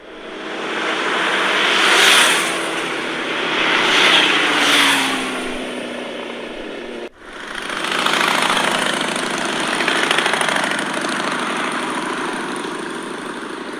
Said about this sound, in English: The sleepy Sunday morning was disturbed by the sound of a motorcycle gang coming into the town.